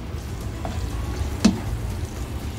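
Chicken mince fries in a pan with a soft, steady sizzle and a low background rumble, broken by one brief sharp clack of stirring.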